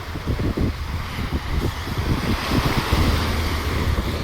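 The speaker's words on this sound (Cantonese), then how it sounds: "吹下風，今日其實好大風" Strong gusty wind buffets the microphone over steady surf and breaking waves on the Hong Kong seashore, loud and continuous with no voices.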